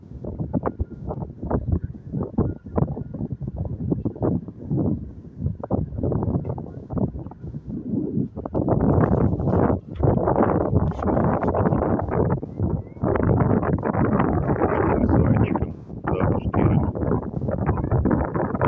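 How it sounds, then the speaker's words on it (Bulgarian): Wind buffets the microphone on a boat trip along the Danube at Passau, Germany, gusting louder and rougher in the second half, with voices talking underneath. "Това може би се чува и вятъра"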